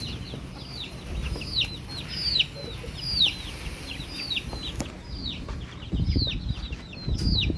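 Several grown chickens in a small backyard cluck and chirp repeatedly nearby, with scattered rustling and scratching sounds in the background; no talking.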